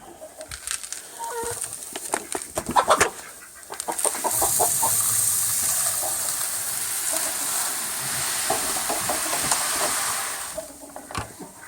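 Chicken scratch feed poured out for a flock of chickens, with a long steady rushing pour of grain under scattered clucks and rooster calls, then a rattle of kernels settling.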